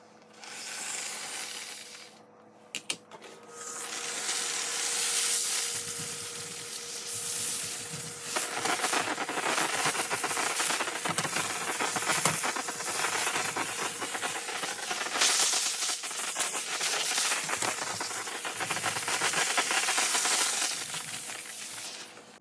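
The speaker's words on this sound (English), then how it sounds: "let's see how this will clean with the Shadazzle and the Tivogo steamer" A Tivogo steam cleaner blasts a discolored stove top. A close, continuous hiss of steam mixes with faint rubbing and scraping and runs almost the whole time, with a brief clatter near the start.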